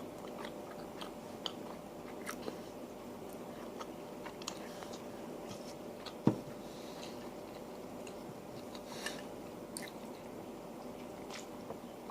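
Faint close-up chewing of 7-Eleven curry and rice, with soft wet squishes and small crunchy clicks scattered through a quiet room and one sharper clink midway.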